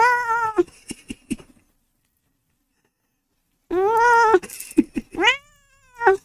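A pet cat meows repeatedly indoors, loud and close, in drawn-out, wavering cries with short rising calls, separated by a pause of silence.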